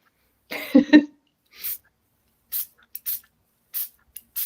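A handheld spray bottle spritzes water onto ink, giving several short, sharp hissing bursts spaced apart in quiet surroundings, after a brief low thump or breath at the start.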